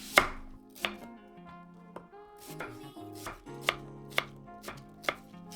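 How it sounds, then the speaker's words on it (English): A knife chops an onion into chunks on a cutting board, giving about nine sharp, separate thunks at an uneven pace, close and clear, with soft background music. "Cut 1 onion into chunks."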